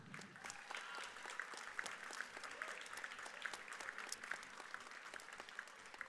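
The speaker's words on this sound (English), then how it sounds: "Let's hear it for a big round of applause for all the teams competing today." Applause from a crowd at a robotics tournament qualifier, a dense sustained clapping of many hands, moderately distant and even throughout.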